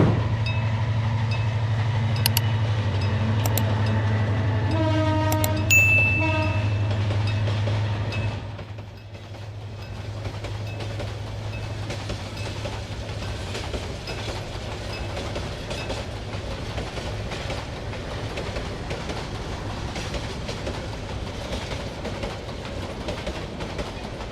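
A train passes a railway station in Narsingdi in the evening: a loud sustained horn-like tone and steady rumble for several seconds, then a continuous rattling clatter of wagons rolling by.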